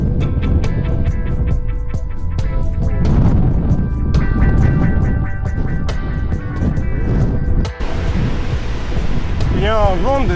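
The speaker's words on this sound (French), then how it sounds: "Il y a un vent de zinzin." A strong wind roars and buffets the microphone on a mountain pass while cycling. The gusts are loud and continuous, and a voice can be heard under them.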